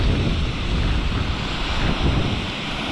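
Waterfalls flowing over rocks after rain give a loud, continuous rushing roar with a buffeting wind rumble, heard close and steady with no voices.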